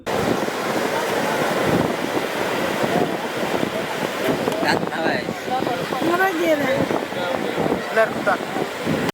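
Sea waves and wind at Lido beach in Mogadishu make a constant, loud rush of surf and gusting air. Someone talks over it throughout.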